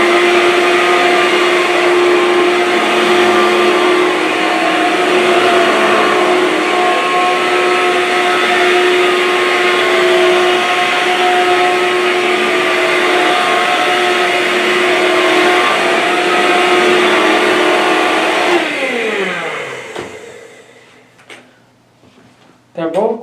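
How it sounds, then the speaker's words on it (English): A Bissell Featherweight Turbo or Hoover Cyclonic vacuum running suction with the brush roll spinning, a loud steady whine and hum lasting about twenty seconds before winding down and cutting off with a click. "This is gonna be suction with the brush roll spinning."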